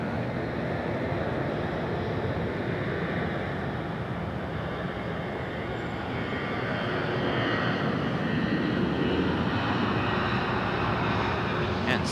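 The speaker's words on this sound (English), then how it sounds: "Southwest up, United pulling onto the runway." Airliners taxi and line up on the runway at Raleigh-Durham International Airport, heard as a steady, loud, continuous jet engine roar with broad wind-like rushing that holds unbroken throughout.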